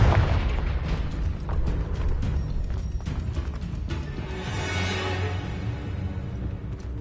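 Confringo spell explosion in the Hogwarts Legacy video game: a run of booming blasts and bursts with a heavier rumbling swell about midway, fading off afterward.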